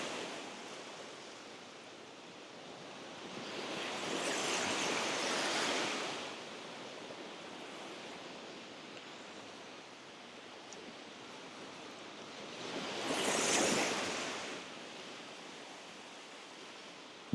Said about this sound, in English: Hear those waves crashing on shore.